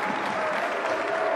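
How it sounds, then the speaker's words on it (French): Deputies applaud in the French National Assembly, a steady wash of clapping from a large chamber, continuous and fairly loud through the whole brief moment with no distinct voices. "Alors, on applaudit"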